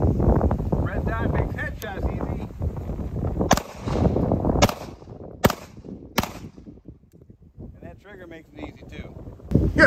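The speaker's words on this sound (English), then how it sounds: "Yeah, but David, that's slow fire." A Staccato 2011 pistol fires single shots slowly, four or five sharp cracks spaced about a second apart outdoors, with wind noise and talking heard around them.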